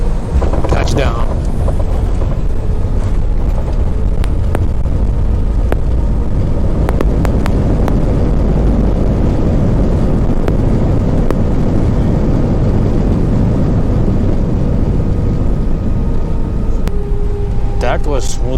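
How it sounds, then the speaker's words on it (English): PIA airliner landing at Skardu airport on a sunny day, with a loud continuous roar of engines and rushing air inside the cabin, a few thumps from the touchdown, and people speaking over it. "That was smooth landing. A little bit bumpy, but given the conditions."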